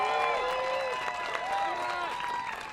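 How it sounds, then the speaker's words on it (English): A crowd at a pickleball Tournament of Champions in Brigham City applauds the women's singles gold medal winner, steady mid-distance clapping and cheering under an announcer's voice and whistling tones. "Let's give her a big round of applause"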